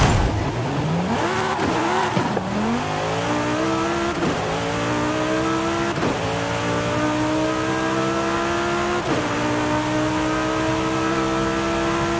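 A 2003 Ferrari 360 Challenge Stradale in Forza Horizon 5 revs hard and loud through repeated gear changes, the engine pitch climbing steeply, dropping at each shift and climbing again with no voices over it.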